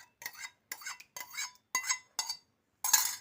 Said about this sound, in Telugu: ఇదిగోనండి పెరుగు వేసుకుంటున్నాను